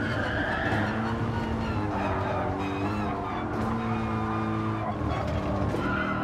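Race car lapping Suzuka in Gran Turismo Sport, a steady loud engine drone with shifting harmonic pitch and occasional tire skid, continuous throughout with no talk.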